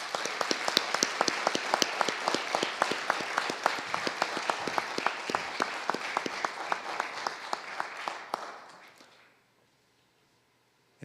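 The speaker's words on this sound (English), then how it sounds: "Let's give a round of applause for the Holbrook family" Audience applause for the Holbrook family at an Eagle Scout court of honor, brisk steady clapping from a modest crowd with distinct individual claps, tapering off and fading to silence near the end.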